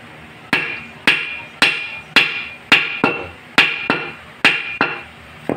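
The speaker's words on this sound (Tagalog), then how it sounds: "Pasok nyo ere, eh. pukpukin nyo." Ten sharp metallic hammer strikes ring out at a steady, even pace, driving a bushing into a Yamaha FZi motorcycle swing arm, each blow clanging with a short bright ring.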